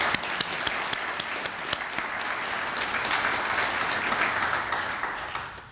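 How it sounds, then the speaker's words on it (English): An audience at a service awards banquet gives a round of applause for two employees. The clapping is dense and steady and runs for several seconds, with sharp individual claps standing out before it fades. "Let's give these two employees a round of applause."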